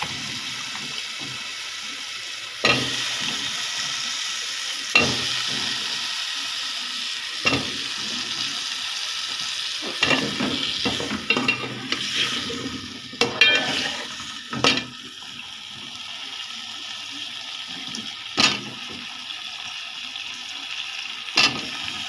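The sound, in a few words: pumpkin added to fried spice paste, sizzling and stirring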